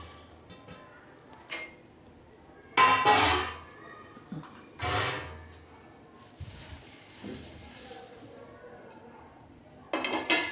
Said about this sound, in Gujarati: હવે આપણે એને હલાવીને શેકાય ત્યાં સુધી આપણે ધીમા તાપે એને હલાવવાનું છે